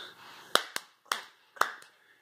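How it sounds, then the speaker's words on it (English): A few sharp handclaps from people clapping along to a song at home, four or five separate claps spaced about half a second apart, close and fairly quiet, with no talk. "Everybody clap."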